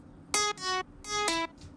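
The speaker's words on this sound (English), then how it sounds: "And the next layer is a guitar from Nexus." Guitar patch from the Nexus synth plugin, used as a lead layer in an electronic track, playing four short plucked-sustained notes in a quick phrase with a faint tail, alone without talk.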